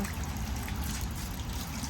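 Rainwater trickles and drips steadily nearby during rain in a vegetable garden, a soft continuous dribble over low background noise.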